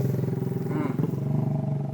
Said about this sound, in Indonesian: Ternyata yang banyak kali pakai knalpot racing jam-jam begini